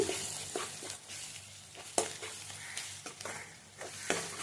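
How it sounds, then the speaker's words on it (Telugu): Ginger garlic paste with turmeric sizzles in a hot pan, a steady soft frying hiss broken by repeated scrapes and clicks of stirring. The sound is close and fairly quiet, with no talking. "అల్లం వెల్లుల్లి పేస్ట్ వేసుకుందామండి. ఎర్రగా వేయించుకోవాలి."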